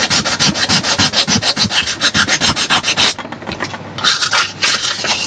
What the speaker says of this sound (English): how much work it is to actually sand it down there